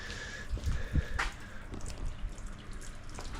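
Water trickles and drips steadily out of a cracked cylinder head on a Kawasaki Ultra 260 jet ski, a faint, continuous wet splashing with a few louder drops and no talking.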